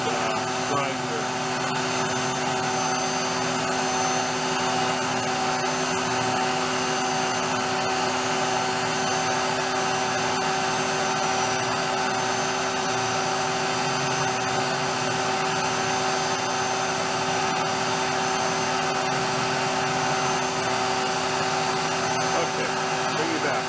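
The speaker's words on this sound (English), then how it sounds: "Had a high spot on one of the jaws on this initial grinder." Tool post grinder mounted on a lathe grinding the chuck jaws, giving a steady, loud, continuous high whine with a constant tone throughout, unbroken and without talk.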